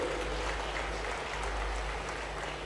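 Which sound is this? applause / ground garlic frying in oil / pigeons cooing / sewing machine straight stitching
applause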